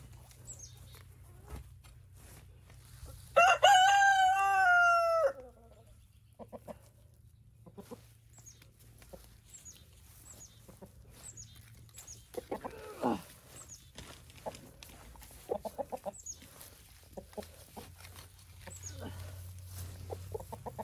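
Chickens in a garden compost area, with a loud rooster crow in the middle followed by scattered clucks and rustling nearby, faint voices now and then.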